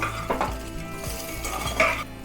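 Vegetables (potatoes, papaya, carrots, beans and tomato) being stirred in a pot for a Bengali chicken stew, with close scraping and knocking of a utensil against the pot over a soft sizzle, repeated several times.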